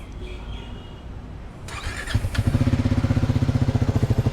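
A Triumph Speed 400 motorcycle engine cranks briefly with a starter whir, then catches and settles into a steady, close, throbbing single-cylinder idle with a quick pulsing beat.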